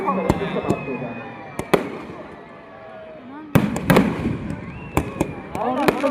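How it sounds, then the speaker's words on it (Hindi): Fireworks bursting at a Dussehra celebration in Barmer, loud sharp cracks and booms, some rising whistles, and a dense cluster of bangs in the second half, with someone speaking over them. "बहुत शानदार आतिशबाजी नगर परिषद बांग्लादेश में इस बार विशेष तरह की आतिशबाजी आप सबके लिए प्रस्तुत की है"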